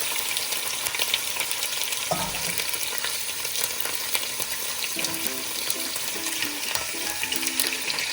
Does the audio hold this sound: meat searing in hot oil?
yes